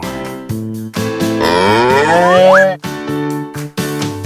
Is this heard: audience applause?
no